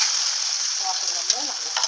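Vinegar poured over sautéed garlic in a hot pan for Egyptian koshari, bursting into a loud, continuous hiss of sizzling close by, with faint stirring.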